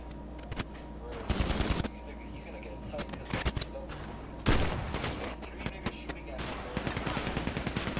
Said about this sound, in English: they are shooting at me too